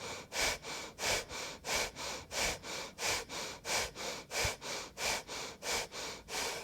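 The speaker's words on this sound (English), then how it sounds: "working with a gentle breath of fire rhythm" Rapid breath of fire yoga breathing with the belly pumping, a steady train of about sixteen sharp, even nasal exhales, close and fairly loud, with no talking over it.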